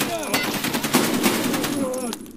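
An AKM rifle fires rapid full-auto bursts in the game Escape From Tarkov, a close, loud string of sharp cracks with a voice talking over the shooting.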